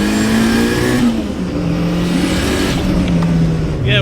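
A boosted Nissan Silvia, around 500 horsepower, accelerates hard in a pull test, its engine roaring close and loud with a steady climbing tone, then easing off.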